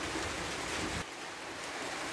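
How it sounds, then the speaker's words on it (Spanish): Rain falls on a village in a steady, dense hiss, close and uniform, with a slight drop in intensity halfway through and no voices. "Hoy sí empezó a llover y hoy día lunes nos sorprendió el agua."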